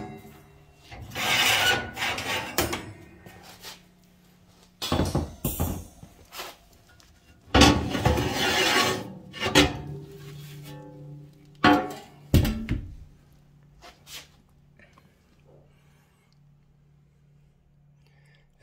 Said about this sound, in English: So I'm going to take the rack and the oven baffle out.